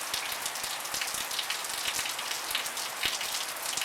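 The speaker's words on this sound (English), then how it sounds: "So the rain coming down back now." Steady rain falling during Hurricane Matthew in Florida, a dense continuous patter of drops striking surfaces nearby, even and fairly loud throughout.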